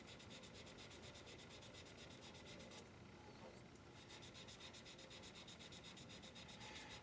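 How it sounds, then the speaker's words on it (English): Wood for a shaving brush handle is sanded by hand in steady, continuous rubbing strokes, with a short pause partway through and no talking. "now I'm sanding them out this way"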